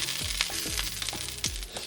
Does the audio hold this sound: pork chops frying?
yes